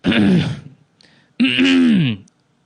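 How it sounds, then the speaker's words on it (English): A man clears his throat twice, each a loud, close, rasping vocal burst of about half a second to a second, separated by a short silence. "most people check in just to hear me clear my throat anyways"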